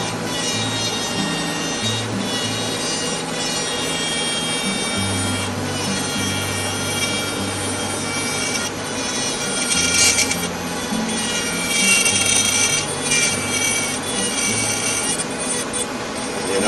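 A diamond bit cuts and carves into wood on a black-capped chickadee carving, giving a steady close scraping, grinding rub that runs continuously with slight swells in intensity and no talk.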